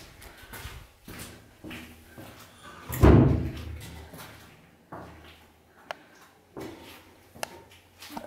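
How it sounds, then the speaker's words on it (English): A hidden door built into a wall is pulled open to reveal a safe. Soft handling noises lead up to one loud thump and scrape near the middle, followed by a few quieter knocks. "So you can open up the hidden door"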